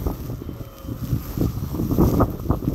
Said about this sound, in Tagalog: Mahangin talaga guys.